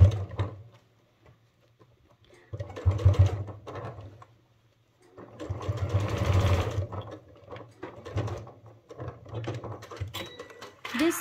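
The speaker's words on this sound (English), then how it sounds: "Make sure you're not stitching on your very long handle." A sewing machine stitches along a long sling bag handle in repeated bursts, running steadily for a few seconds, pausing in near silence, then whirring again close by with no talk over it.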